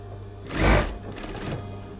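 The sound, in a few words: sewing machine stitching shirt collar edge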